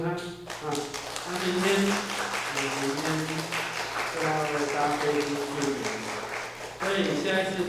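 A church congregation claps to thank someone and send them off during a Sunday worship service, with steady clapping running under a speaking voice.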